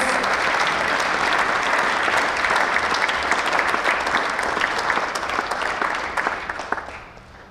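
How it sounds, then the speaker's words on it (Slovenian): A large crowd at a military sports awards ceremony in Slovenia applauds a third-place winner, with sustained, dense clapping that swells and then tapers off toward the end. "Velik aplavz."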